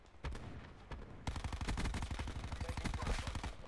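MX9 submachine gun fire in Call of Duty, two single shots followed by a long rapid automatic burst, loud and close.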